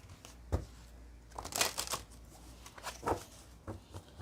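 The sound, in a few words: shuffling a deck of cards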